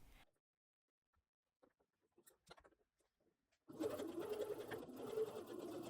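A sewing machine runs steadily through four aligned fabric layers on a dress back bodice, starting after a few quiet seconds of faint handling noises and continuing alone.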